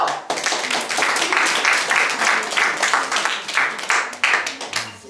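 A studio audience at a quiz game applauds a correct team answer, a loud burst of dense clapping starting abruptly and holding steady before thinning out near the end.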